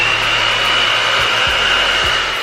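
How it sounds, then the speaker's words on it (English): A blow dryer with a diffuser attachment blows hair on a low fan and low heat setting, a steady close airy whoosh with a thin whine throughout and a few soft bumps underneath. "I'll start on a fan setting of 1 and then a heat setting on 2 and diffuse my hair as I would with any other"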